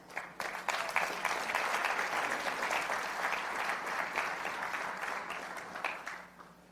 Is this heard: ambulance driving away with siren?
no